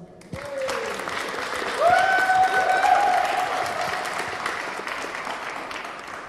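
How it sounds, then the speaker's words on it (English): An audience at a hackathon opening event breaks into applause, a steady crowd clatter of clapping that builds and holds for several seconds, with a brief whistle-like tone and a voice briefly over it. "Please give him a warm applause."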